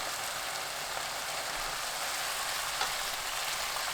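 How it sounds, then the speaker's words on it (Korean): Pork stir-frying in a hot pan over high heat, a steady, even sizzle and hiss that holds at a constant level throughout with no voices. "달군 팬에 돼지고기 넣고 센 불로 볶아주세요."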